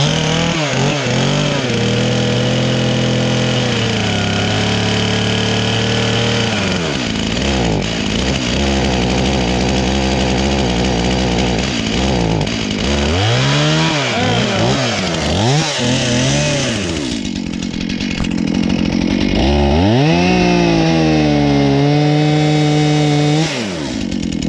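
A chainsaw cuts the face notch to fell a tree in fresh snow, its engine loud and close and running throughout, revving up and bogging down repeatedly as the bar bites into the wood.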